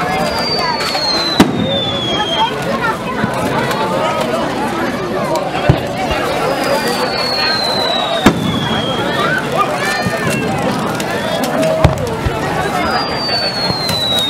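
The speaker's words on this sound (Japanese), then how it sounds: "ただいま焼け打ち湾の夜空を美しく彩っておられます花火は、株式会社太陽花火さんによって打ち上げられています。" Repeated firework bursts boom at intervals over a steady crowd murmur, with whistling launches rising between the sharp explosions, at a Japanese festival fireworks display over a night bay.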